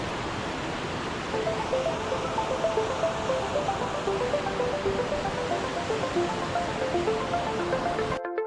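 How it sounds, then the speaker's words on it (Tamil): Water rushes forcefully through a channel near Sholaiyar Dam in Valparai during rainy-season flow, a loud continuous roar that stays steady and close before cutting off at the end. "எவ்வளோ ஃபோர்ஸாக தண்ணி போயிட்டுருக்குன்னு பாருங்கள்"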